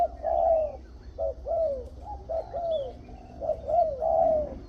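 A decoy dove from the mountain forests of Phetchabun, Thailand, coos in a steady series of rounded, mellow calls, close and clear over faint background noise with no talking.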